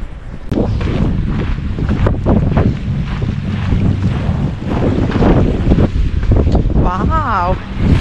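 Strong wind gusts across an open place by the sea, roaring and buffeting the microphone loudly and continuously while a person talks over it.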